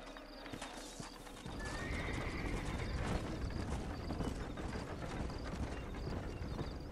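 In the video game Red Dead Redemption, a horse gallops with fast, rhythmic clip-clopping hooves and a whinny, loud and close over a dense backdrop of game ambience, with no speech.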